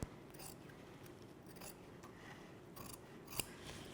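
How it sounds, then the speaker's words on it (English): Scissors snip away excess fabric at a draped neckline: faint, close, crisp cutting strokes repeat irregularly, with one sharper click near the end, over a quiet background. "And we could cut the excess fabric"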